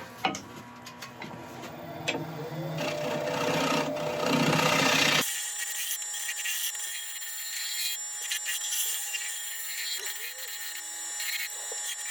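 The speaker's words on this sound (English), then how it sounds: "it's time to get back in there with the scraper again" A scraper rasps against a spinning spalted sycamore bowl on a lathe, a rough steady grinding that stops abruptly midway, leaving a quieter motor hum.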